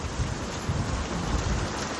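Heavy unseasonal summer downpour with thunder: a dense, steady roar of rain on surfaces with deep rumbling underneath, loud and continuous, with no voices.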